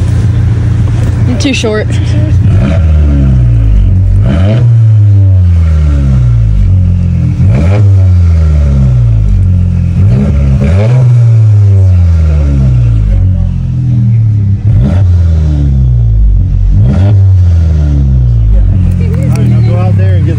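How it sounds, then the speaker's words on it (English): A car engine revs repeatedly in short, loud bursts at a car show, each blip rising and falling in a steady rhythm over a constant idle, with people talking nearby. "Give it a little baby revs."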